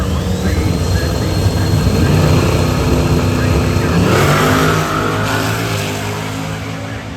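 An 1982 root-beer-brown Monte Carlo drag car roars loudly down the strip at the Snowbird Nationals, a steady high-revving engine note that holds strong and then eases off as it pulls away.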